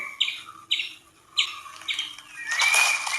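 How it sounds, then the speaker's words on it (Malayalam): A squirrel chirping in sharp repeated bursts, about four evenly spaced calls close by, followed by a louder, denser stretch of noisy squeaking at the end. "പിന്നെ അണ്ണാൻ ചിലയ്ക്കുന്നുണ്ട്"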